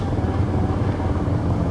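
A police helicopter in the racing game Need for Speed Rivals gives off a steady, loud rotor drone with a low throbbing rumble that holds constant throughout the short stretch.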